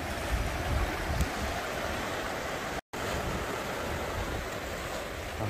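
East Sea surf rolling onto the beach at Naksansa in Yangyang, a steady broad wash of breaking waves with wind, continuous and fairly close, with no voices.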